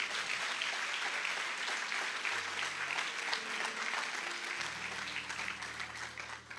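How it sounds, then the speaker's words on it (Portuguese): A church congregation claps steadily and loudly throughout, a dense sustained applause with a low organ or keyboard chord droning underneath. "Você pode aplaudir ao Senhor Jesus por isso?"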